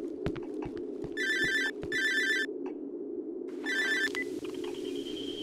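A telephone rings in the horror video game Cry of Fear, with three bright electronic ring bursts at a steady rhythm over a low droning background hum.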